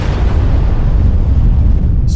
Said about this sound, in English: set off an enormous explosion at the base of the rocket.